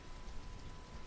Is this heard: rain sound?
yes